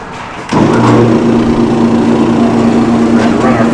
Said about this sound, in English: book cycles through but does not get actually trimmed